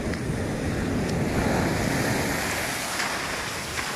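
Large ocean waves surge and break on a beach during a winter stroll by the sea, a steady loud roar of surf with wind buffeting the microphone throughout.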